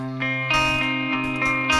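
A clean post-rock electric guitar tone played through an SS11X amp plugin rings out in sustained, chiming chords with effects-laden shimmer, struck a few times in under two seconds, alone and up close.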